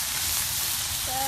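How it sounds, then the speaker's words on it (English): Bacon sizzles in a hot pan during a Christmas breakfast cook, a dense close crackling hiss that holds steady for a brief moment. "Let's listen to that sizzle."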